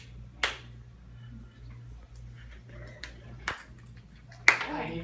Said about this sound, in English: I need 3 claps.